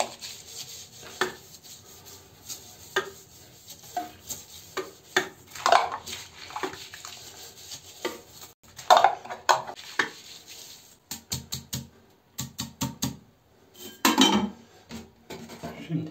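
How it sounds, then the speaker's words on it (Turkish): A toilet brush scrubs the inside of a ceramic toilet bowl being cleaned of limescale and yellow stains, making intermittent scratchy, rasping strokes with quiet gaps, close and fairly soft. "Daha sonra klozetin fırçasıyla fırçalıyoruz."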